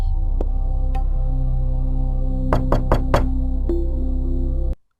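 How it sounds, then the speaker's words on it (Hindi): Four sharp knocks on a door in a rapid cluster at night, heard over a steady low droning hum, with a couple of fainter isolated taps before and after. "दरवाजा कौन खटखटा रहा है?"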